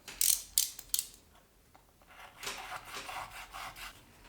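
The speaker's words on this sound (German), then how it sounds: "Dann schneiden wir noch ein zweites schon her." A blade cuts material during an SSD upgrade on a MacBook Pro, making several sharp scraping strokes at first, then a quiet pause, then a longer run of rough rubbing and cutting sounds close by.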